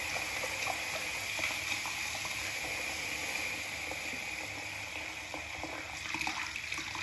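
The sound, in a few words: water sloshing and bubbling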